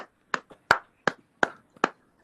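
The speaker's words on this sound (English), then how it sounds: "Please clap, all of you." Audience members at a Mahidol University session give about seven sharp, separate hand claps at a slow, slightly uneven pace, close and clear with silence between them.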